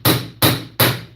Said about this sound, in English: There we go. A little hammer.